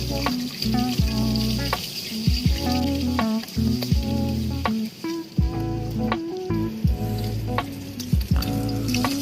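Chopped garlic hits hot rendered chicken fat and sizzles loudly, with repeated sharp clinks and scrapes of a utensil stirring the pan. No one speaks.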